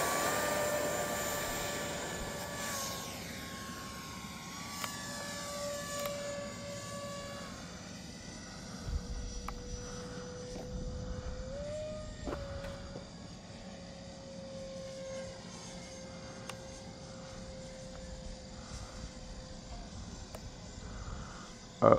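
A Freewing J10A 90mm electric ducted-fan RC jet spools up for takeoff and flies, giving a faint, continuous turbine-like whine whose pitch slides and wavers for over twenty seconds amid a soft outdoor background.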